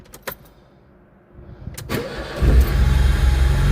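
A classic car engine cranks briefly with a few sharp starter bursts, then catches and roars into a loud, rough idle close by, staying steady and noisy to the end.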